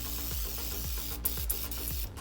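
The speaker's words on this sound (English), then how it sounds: "I'm gonna start by spraying our pan with spray. I'm just using extra virgin olive oil" Extra virgin olive oil cooking spray misted onto a pan over medium heat, a steady hiss running through the whole moment with a few brief sharper puffs.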